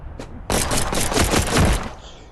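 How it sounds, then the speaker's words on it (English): Revolver gunfire in the VR video game Animal Company rings out as a rapid, dense volley of sharp shots lasting over a second, loud and close, with no talk over it. "he's using revolvers now"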